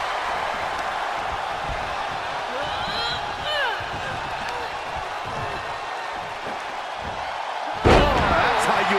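A wrestler lands a splash in a WWE 2K22 tag team match, a single loud, heavy slam near the end that follows a stretch of arena crowd noise and commentary.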